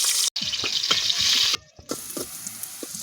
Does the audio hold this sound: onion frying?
yes